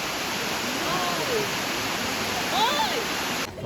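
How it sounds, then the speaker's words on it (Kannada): Elephant Falls waterfall near Shillong, Meghalaya, gives a steady, broad rushing roar of falling water that holds evenly throughout, with faint chirping tones drifting over it and no talk. "ಇದು ಎಲಿಫೆಂಟ್ ಫಾಲ್ಸ್, ಫಸ್ಟ್ ಫಾಲ್ಸ್."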